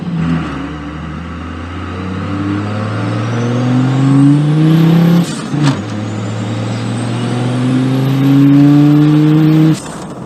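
Car fitted with a large semi-truck turbocharger running around 60 psi of boost, revving loudly on a test drive with rising engine pitch through two long pulls, a brief lift-off between them, and turbo whine on top.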